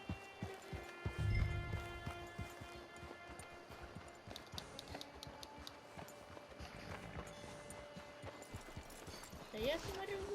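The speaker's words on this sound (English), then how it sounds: "Get your horse." Horse hooves clip-clop at a steady walking rhythm in Red Dead Redemption 2, mixed with game music and ambient sounds, while voices talk over them.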